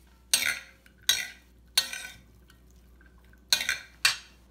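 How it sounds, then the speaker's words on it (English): Red onions tumble into a bowl of beet salad in five or six short, crisp clattering bursts, each quick spill followed by a brief pause, close and fairly loud against a quiet background. "And now she's adding red onions, sweet onions."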